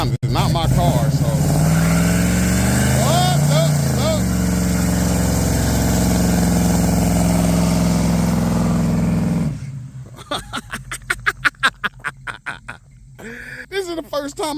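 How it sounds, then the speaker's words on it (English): A Chevrolet Malibu with a 383 stroker engine runs loud and steady for about nine seconds, then drops to a rough, pulsing idle with bursts of revving. Voices talk over the engine throughout the first part. "This is the first time I've ever seen that man burn some tires in his car"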